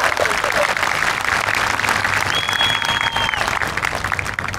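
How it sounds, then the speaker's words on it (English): A large crowd at a high school graduation ceremony claps loudly and continuously, with cheers and a high whistle rising briefly over the applause. "let's clap again."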